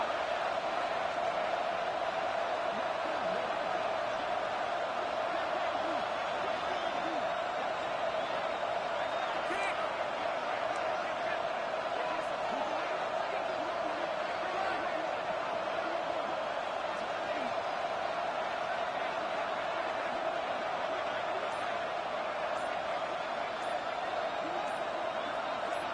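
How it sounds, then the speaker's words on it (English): A packed stadium crowd at an Ohio State versus Oregon football game roars in a constant, dense wall of noise late in the game while the defense faces a red zone stand. The roar is heard from a distance, steady throughout. "This crowd is trying to inspire this defense to make a big red zone stop."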